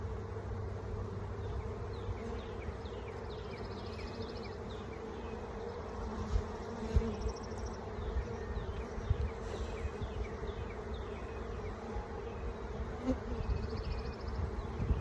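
Honeybees drone in a steady, dense hum close around an opened hive during a spring split as brood frames are lifted and inspected, the buzzing continuous and even throughout with no talk.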